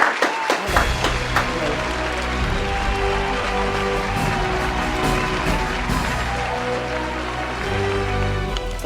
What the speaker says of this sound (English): Ladies and gentlemen, let's give her a big round of applause.